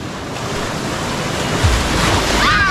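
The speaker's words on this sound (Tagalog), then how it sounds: "Siya tinutulak ako ng alon pabalik." Ocean waves wash in steadily at the shore with strong wind buffeting the microphone, a continuous broadband roar that grows slightly louder toward the end, with a brief faint whistle-like tone near the close.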